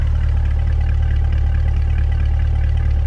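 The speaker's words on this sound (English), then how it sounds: "The exhaust sounds great. That is on the track mode" A 2020 C8 Corvette idles in track mode with its stock exhaust, giving a loud, steady, deep rumble that pulses evenly throughout and has no voices over it.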